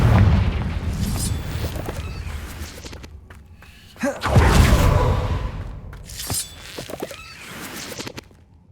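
Confringo explosion spell blasting in Hogwarts Legacy, a loud booming burst that rumbles and decays over several seconds, followed by a second sharp boom and scattered smaller crackles and impacts.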